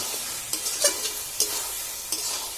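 Masala and jackfruit fry in a pan with a soft sizzle, broken by a few scraping stir strokes at uneven intervals, close and fairly quiet.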